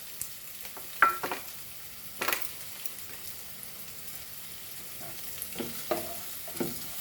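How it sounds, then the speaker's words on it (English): Dal (lentils) frying and being stirred in a pan for Goan raw papaya bhaji, with soft sizzling and a few louder scraping stirs near the start and end, no talking. "now I'm putting this dal"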